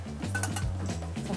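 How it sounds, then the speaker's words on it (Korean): A drink being stirred gives quick clinks of a spoon against a cup over a steady background hum, close and moderately loud for just over a second. "한 번만 섞어주세요"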